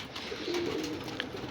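Pigeons coo on a rooftop loft where racing and flying birds are kept: a low, soft cooing in the middle of the clip, near, over a steady background hiss.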